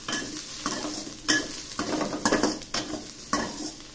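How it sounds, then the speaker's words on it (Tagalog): Garlic, onion and ginger sizzle and fry in a pan for squid, stirred with rhythmic scraping strokes of a utensil against the metal, close and moderately loud, with no talking. "Ating halu-haluin."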